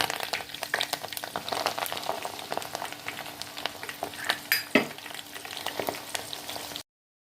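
Oil sizzles steadily as it heats with curry leaves and hibiscus flowers for a homemade herbal hair oil, with crackling pops and a few sharper bursts near the middle before it cuts off.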